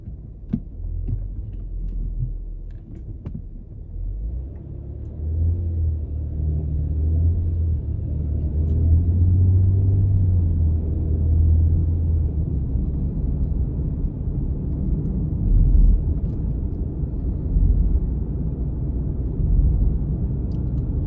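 A car cruising along a road past schools, heard from inside the cabin as a steady low engine and tyre rumble that swells slightly midway and holds on without speech.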